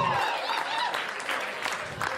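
Comedy club audience applauding during a stand-up set at Gotham Comedy Club, a dense steady wash of clapping from a crowd lasting a couple of seconds with a voice faintly over it.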